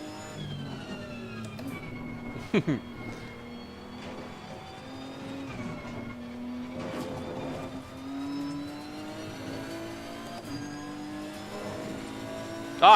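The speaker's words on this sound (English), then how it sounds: "V6 turbocharged, right. Listen to that." A V6 turbocharged racing car engine at the Paul Ricard circuit drones at a distance, its pitch shifting as it revs and passes, with a couple of brief louder knocks nearby.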